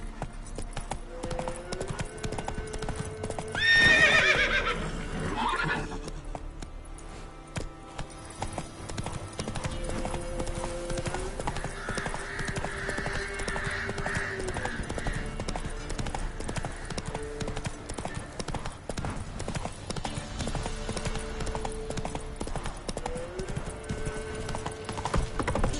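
A horse in The Witcher 3 gallops with a continuous, rhythmic clip-clop of hooves. One loud neigh comes early, and a faint voice speaks under the steady hoofbeats.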